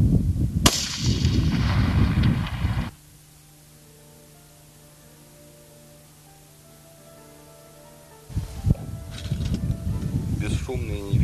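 Loud, close bursts of heavy gunfire from a machine gun, with a lone sniper rifle shot somewhere in the din, crack out in two separate spells with a near-silent gap between them.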